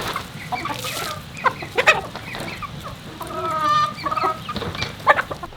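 Chickens on a Hamakua homestead cluck close by, with several overlapping bursts of clucking and one longer drawn-out call, irregular and moderately loud against light outdoor background noise.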